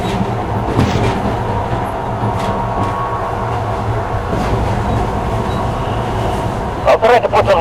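A metro train rumbles steadily through a tunnel of the secret Metro 2 line in the Metro 2033 video game, a dense low roar with a brief burst of clatter near the end.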